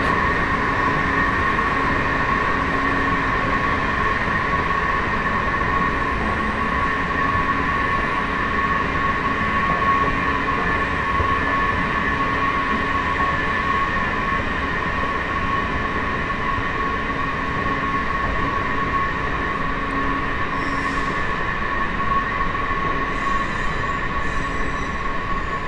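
Loud, continuous rumble of a Washington DC area metro train arriving at a station, with high-pitched wheel squeal and steady tonal hum, close by, with no talking.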